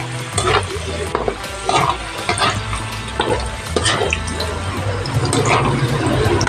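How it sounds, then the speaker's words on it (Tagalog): Fried jackfruit seeds sizzle and bubble in a pan as the sugar melts around them, a loud continuous crackle with scattered stirring scrapes and clinks, close up and with no talk. "Hayaan na lang natin siyang matunaw yung asukal para dumidikit sa fried na buto ng langka."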